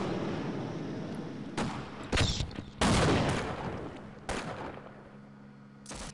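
Enemy gunfire in the Half-Life video game: several sharp, loud shots crack out in separate bursts with short gaps between them, over a low steady hum and with no talking.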